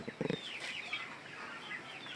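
A few quick soft clucks from Sonali chickens, followed by faint chirpy bird calls over quiet background noise.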